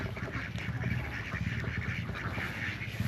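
Ducks quack repeatedly on a farm under mango trees, a busy flock heard at moderate distance with overlapping calls throughout.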